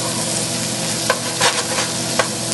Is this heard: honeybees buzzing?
no